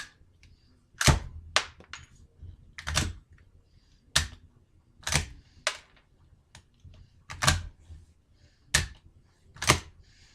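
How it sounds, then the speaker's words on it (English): Rounds are cycled through the bolt action of a 1906 rifle on a gunsmith's bench, giving a series of sharp metallic clacks and thunks, about ten spaced across the stretch, with no talk. "we want to put them through the action to make sure everything works."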